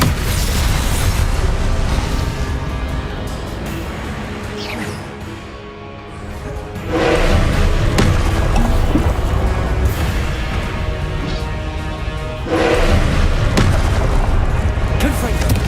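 Confringo fire-blast spells from the Hogwarts Legacy video game go off as loud booming bursts, one near 7 seconds and another near 12.5, each rolling into sustained rumbling under a dense, continuous game soundscape.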